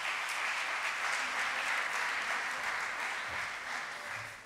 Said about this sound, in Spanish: Así que un aplauso porque se lo ganaron.